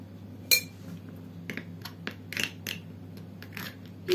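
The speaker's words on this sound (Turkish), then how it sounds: "İyice karıştırın." A spoon stirs a rice face-mask mixture in a small bowl, producing sparse clinks and scrapes against the bowl, with a sharp tap near the start and a few softer knocks over a quiet background hum.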